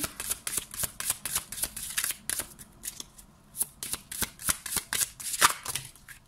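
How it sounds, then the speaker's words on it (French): Tarot cards are shuffled by hand in repeated quick riffling bursts, close and crisp, with brief pauses between runs and nobody speaking. "Pendant que je vais brasser les cartes"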